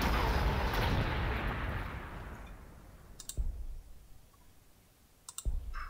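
Artillery fire in the strategy game Warhammer 40k Gladius: a heavy boom that rolls away into a long fading rumble, followed by two sharp, loud cannon reports spaced a couple of seconds apart, with no talk.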